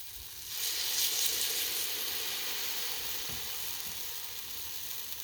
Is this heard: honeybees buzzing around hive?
no